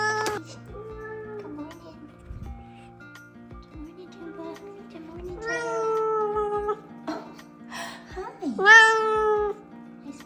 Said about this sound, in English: That pitiful meow.